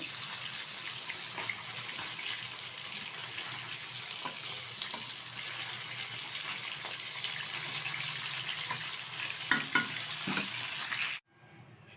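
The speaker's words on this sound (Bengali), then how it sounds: "পিঠটা উল্টে দিলাম এটা ভালোভাবে ভাজা হয়ে গেলে তুলে নেব একটা পাত্রে" Pieces of rohu fish frying in hot oil in a pan, a steady soft sizzle and hiss running continuously with a few faint stirring clicks, then cutting off abruptly near the end.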